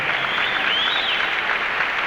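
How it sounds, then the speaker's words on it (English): An audience applauds at an outdoor Vietnam monument dedication program, a steady wash of clapping hands sustained throughout with no speech over it. "I think he deserves a round of applause, too."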